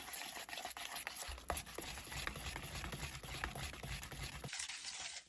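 Resin being stirred in a cup for a Christmas trinket tray, a steady scraping and swishing of the stick against the cup walls that runs continuously at close range with no voices.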